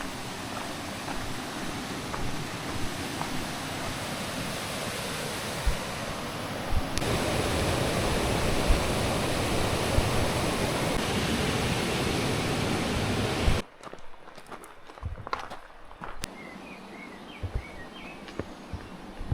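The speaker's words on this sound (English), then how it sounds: "The opening of a river." Broad, steady rushing water fills the air for most of the stretch, then drops away abruptly to quieter surroundings with faint birds.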